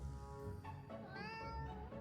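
A cat meows in the game Ravenous Devils, with a few drawn-out, rising and falling cries over a steady low background hum.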